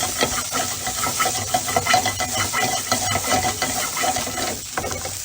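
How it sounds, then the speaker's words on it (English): Vegetable quinoa risotto with fresh thyme stirred in a pan, continuous scraping and stirring over a soft sizzle, close and fairly quiet, with no talking. "we're just going to go ahead and give that a stir"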